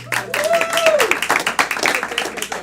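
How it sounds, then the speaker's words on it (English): Audience clapping at a comedy club's clean early show, a dense, lively burst of applause with some whoops, filling the room, while a voice carries on over it. "clap for a clean show"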